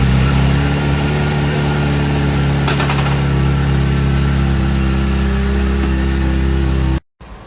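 A motorcycle engine idles and revs loudly up close with a steady harmonic drone, then cuts off abruptly near the end.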